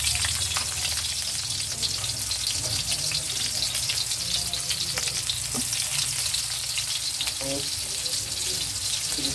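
Onion frying in a pan for Chinese-style tokwa con karne, giving a loud, dense, continuous sizzle with a low rumbling undertone and occasional stirring clinks.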